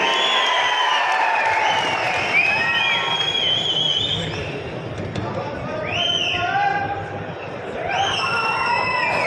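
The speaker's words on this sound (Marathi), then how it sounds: "एकदा जोरदार टाळी झाली पाहिजेत त्यांच्यासाठी" Crowd at an outdoor political rally in Phaltan, a broad wash of cheering and clapping with whoops and shouts rising over it, loud and continuous throughout, with a speaker's amplified voice carrying over the noise.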